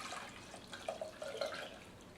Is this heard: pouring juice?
yes